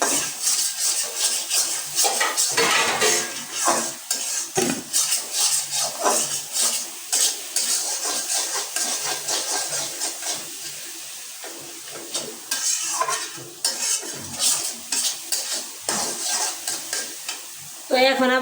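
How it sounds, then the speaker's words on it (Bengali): Egg with spices frying in a pan while being stirred: steady loud sizzling with repeated scraping and clinking of a utensil against the pan, close up, with no talking. "ডিমটা দিয়ে দিলাম, আর এখন একটু নাড়াচাড়া দিব।"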